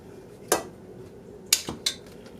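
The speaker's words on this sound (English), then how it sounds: "So here our kidney beans are," Drained kidney beans going into a crockpot of hamburger minestrone soup, heard as a few sharp metallic clinks of a can or spoon against the pot, close and clear with quiet between them.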